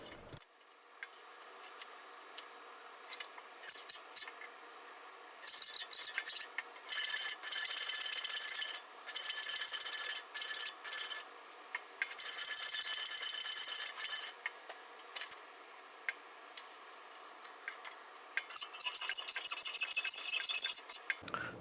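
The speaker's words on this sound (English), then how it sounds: "I need to stop, take it out of the vise, and then check it, and then put it back in to continue filing" A hand file rasps back and forth across a forged steel latch handle clamped in a vise, steady repeated strokes up close, broken by short pauses, with no talking.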